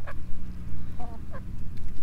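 Calls from a rare breed of chicken on a farm, a few short harsh squawks heard at close range over a steady low hum, with no talking.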